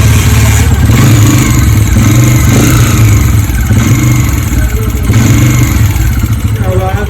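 A motorcycle engine with a noise problem runs loud and close, a continuous mechanical drone with rhythmic clattering and tappet-like ticking throughout.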